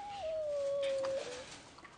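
A puppy whimpering in a single drawn-out, high thin cry that slowly falls in pitch, close and clear against a quiet background, with no talking.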